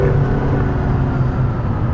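A manual Lotus Emira with a supercharged V6 downshifting through a wet corner, a loud, steady low engine drone heard from inside the car with no clear rev blip.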